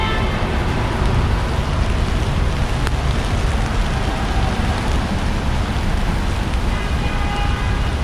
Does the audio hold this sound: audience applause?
no